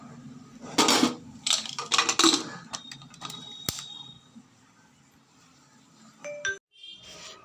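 Metal lid handled and set onto a cooking pot of frying potatoes, with several clattering metallic knocks and scrapes, a sharp click, then small rings and clinks before quiet.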